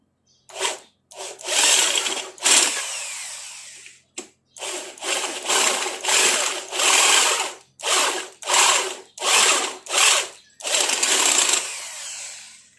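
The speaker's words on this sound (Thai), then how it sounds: "เดี๋ยวต้องเจาะไปอีกนิดนึง" Power drill boring into motorcycle parts in repeated loud bursts, whining on and off about a dozen times with short pauses, close up and no talking.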